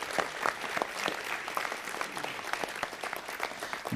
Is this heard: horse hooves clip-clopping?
no